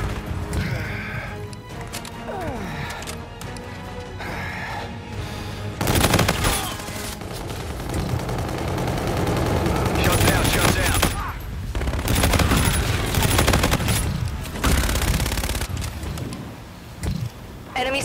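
Rapid automatic gunfire in the video game Call of Duty: Infinite Warfare, loud, close bursts and sustained fusillades with short pauses, alongside explosions and clipped in-game radio voices.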